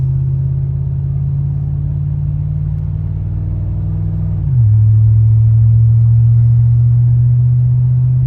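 An old barn-find car with a broken odometer drives along without overdrive, its engine a loud, close, steady low rumble that dips in pitch midway as it shifts, then holds its drone.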